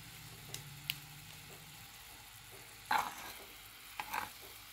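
A spoon scrapes and stirs mustard-poppy paste with green chilli and turmeric in a pan, giving a quiet low sizzle broken by a few sharp clinks and scrapes.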